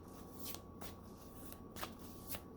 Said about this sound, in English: We're actually just going to pull 2 cards.